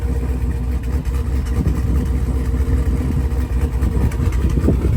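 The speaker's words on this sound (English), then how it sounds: "I guess at least now I can hear how the engine sounds. Man, it sounds crispy." A cammed Jeep SRT8 with straight-piped exhaust idles loudly and close by, a steady rough, crackling rumble with choppy lope that continues without pause.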